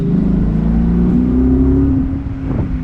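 A car engine fitted with a BBK 73mm throttle body intake revs, holding a loud, close droning pitch before dropping and rising again.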